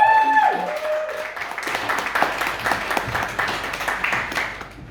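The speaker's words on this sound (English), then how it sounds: "Big round of applause for Karen Bucknell." Audience at a stand-up comedy show in Bath applauding, dense clapping that swells and then fades out over several seconds, with a brief tail of speech or music at the start.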